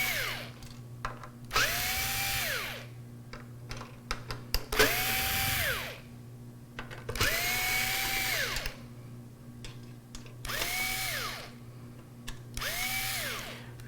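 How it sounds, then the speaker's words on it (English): An electric screwdriver backs screws out of a computer in repeated whirring bursts, each winding up and then down, about five runs spaced a couple of seconds apart with small clicks between them, close and clear without speech. "we can definitely use the electric screwdriver for that"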